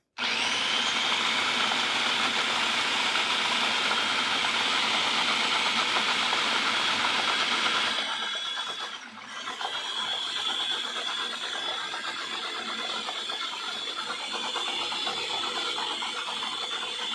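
An electric kitchen mixer whirs loud and close for about eight seconds, then its pitch drops and it keeps running more quietly to the end, with no talking.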